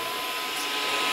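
Vacuum pump on a CNC sofa-frame cutting machine with saw blade, one of two German Becker pumps, running as a steady loud broadband whoosh throughout, even and continuous with no talk.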